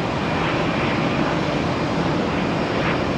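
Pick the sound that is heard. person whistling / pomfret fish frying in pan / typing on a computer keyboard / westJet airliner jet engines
westJet airliner jet engines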